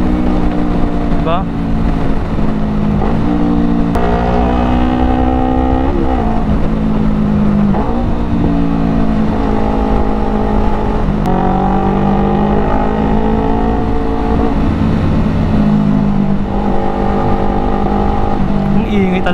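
Loud engine of a Yamaha R3 Limited Edition motorcycle in slow-moving traffic, revving hard at high RPM, its pitch climbing and dropping through repeated throttle blips with a steady drone underneath.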